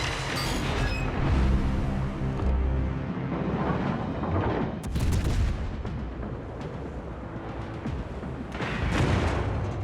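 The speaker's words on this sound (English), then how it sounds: "hopefully we can dodge some of these incoming shots" Naval gunfire booms in a warship video game as shells come in around the player's ship: repeated heavy blasts and rumbling impacts overlap across several seconds at moderate loudness, with no talk.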